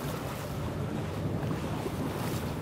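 Steady wind roars at sea aboard a swordfishing boat off Australia, with broad rushing noise and waves washing in a constant wash, close and fairly loud, and no voices.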